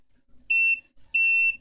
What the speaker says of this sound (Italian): adesso spegniamo il bip